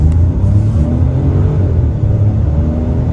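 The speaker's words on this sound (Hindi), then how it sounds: "तो 100 की स्पीड इसने कवर कर ली है और करीब 120 किलोमीटर पर आवर की स्पीड में आपकी किया सिरोस यहाँ पर आ गई है।" A 2025 Kia Syros SUV with a 1000cc turbo petrol engine accelerates at highway speed, a loud, steady low engine drone and road rumble heard from inside the cabin, with no talk.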